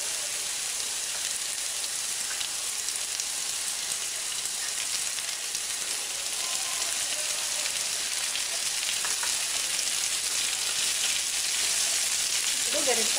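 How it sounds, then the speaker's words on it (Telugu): Chopped ivy gourd (dondakaya) fries in hot oil in a pan, an even, dense sizzle with faint crackles holding steady close up for the whole stretch, no voice over it. "ఇలా 3 నిమిషాలు వేగిన తర్వాత మనం ముందుగానే కట్ చేసి ఉంచుకున్న దొండకాయలను అందులో వేసుకోవాలి."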